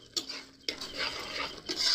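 Sugar and ground whole garam masala being stirred into a malai katla fish gravy, a few distinct spoon scrapes against the pot with brief pauses between them, nearby and without speech.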